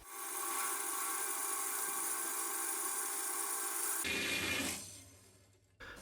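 Power saw cutting 50 by 50 mm steel angle, 5 mm thick, a steady loud high-pitched grinding whine for about four seconds that then changes tone, slows and fades as the cut finishes.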